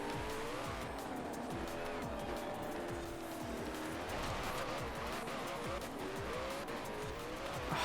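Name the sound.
car skidding sideways in video game Forza Horizon 4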